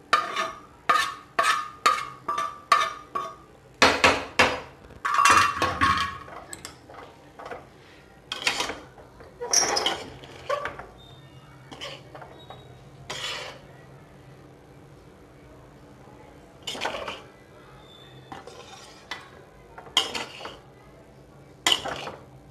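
Egg fried rice being mixed in a pan, with repeated metallic scrapes and clinks of a spatula against the pan coming in quick bursts, loud and close, with quieter stretches between.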